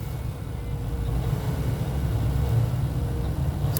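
A Toyota Prius A/C blower motor runs under the dash with a steady, low whirring hum, close by and even in level throughout with no talking.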